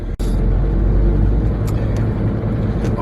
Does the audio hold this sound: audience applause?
no